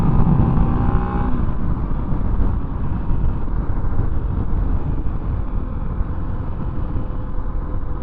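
A 2024 Husqvarna FE501S motorcycle ridden on the road, a steady close engine drone with heavy rumble and wind noise throughout, no talking.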